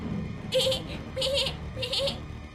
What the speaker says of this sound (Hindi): और वो बकरी वहीं नीचे लेट जाती है और मिमियाने लगती है।